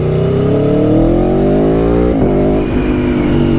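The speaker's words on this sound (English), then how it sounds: "you really can't beat this engine as far as character, the way it accelerates, the torque" An Aprilia Tuono 1100 Factory V4 motorcycle engine revs loud and close, its pitch climbing steadily for about two seconds, then dropping sharply before it builds again.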